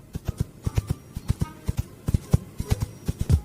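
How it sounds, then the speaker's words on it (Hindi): Foley hoofbeats of a running horse are made for movies by knocking stones together, giving a quick uneven clip-clop of sharp, close knocks at galloping pace with no talk. "मूवीज में जो घोड़ा दौड़ता हुआ दिखता है उसके पैरों की आवाज कुछ इस तरह पत्थरों से की जाती है।"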